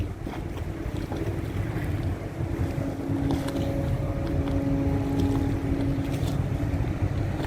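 A large container ship passes on the water with a low rumbling drone and faint tonal hum, while wind buffets the microphone steadily throughout.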